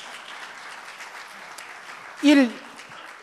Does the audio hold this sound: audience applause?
yes